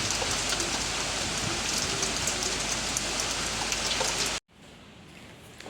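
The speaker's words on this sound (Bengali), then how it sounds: "দেখলে বৃষ্টিও শুরু হয়ে গেছে, বেশ ভালোই জোরে বৃষ্টি হচ্ছে" Heavy rain pours during the first storm of 2025, a dense, steady hiss of drops beating on surfaces that cuts off abruptly near the end to a much quieter background.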